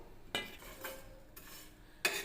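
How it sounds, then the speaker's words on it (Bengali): Whole coriander, dried red chillies, five-spice and fennel seeds dry roasting in a pan, giving a few scattered clinks and stirring scrapes with quiet gaps between them. "একদম হালকা করে এগুলোকে ভেজে নেব।"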